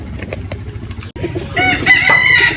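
Gamecock roosters crowing close by, a loud drawn-out cock-a-doodle-doo rising after softer clucks and bird noise in the background.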